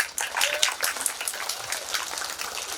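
A crowd at a religious satsang in the village of Garha Rampur, Madhepura, applauds with a steady, dense patter of many hands. It is moderately loud and continuous throughout.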